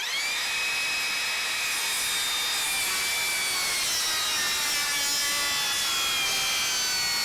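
A Makita 36V LXT or Ridgid Octane cordless circular saw cuts straight down through a treated 6x6 post, giving a steady, loud, high whine of blade through wood that runs for the whole stretch.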